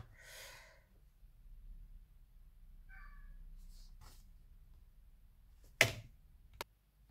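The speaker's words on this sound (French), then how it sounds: "nous avons été coupés par un chat qui miaulait" An indoor cat meows twice, faint and drawn out, in an otherwise quiet room, followed near the end by a sharp clatter.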